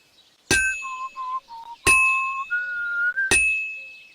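In the video game Kingdom Come Deliverance 2, a clear whistled melody of short sustained notes plays between three sharp metallic dings that ring out at regular intervals, with no talk.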